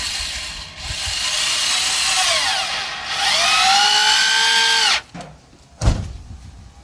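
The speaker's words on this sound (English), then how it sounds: "I'm going to just put a couple of screws in to attach this to the sideways 2x4" A power drill drives screws through 2x4 lumber on a firewood storage rack, a loud steady whine with rising and falling pitch running about five seconds, then a short knock and a sharp thump.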